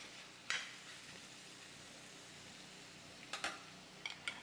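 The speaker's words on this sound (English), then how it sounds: "Just going to stir it again" Ground beef bulgogi stirred in a pan over medium heat gives a quiet, steady sizzle with a few short scrapes of the utensil, the first early and a cluster near the end.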